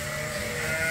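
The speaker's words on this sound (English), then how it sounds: "the elite group of ram lambs that will be for sale" A ram lamb bleats steadily at close range with a drawn-out, wavering call, while a low mechanical hum sits underneath.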